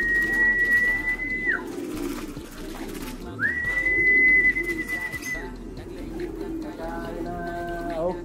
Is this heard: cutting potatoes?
no